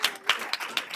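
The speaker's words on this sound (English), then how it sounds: "can we please give a round of applause for our amazing panelists and moderator?" A few scattered claps for panelists after an academic panel discussion, sharp and separate, thin rather than a full crowd's applause, with no talking.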